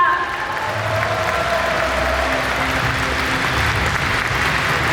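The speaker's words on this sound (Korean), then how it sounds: "외빈분들께 다시 한번 큰 박수 부탁드립니다." Steady applause from a crowd at the Rebuilding Korea Party's 2025 national members' convention fills the whole stretch, even and sustained, with faint voices mixed underneath.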